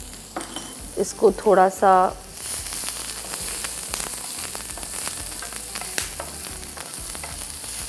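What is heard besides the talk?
chopped onions frying in hot oil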